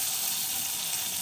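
Chicken fries in coconut oil, a soft, steady sizzle held close and even from start to finish with no voices over it.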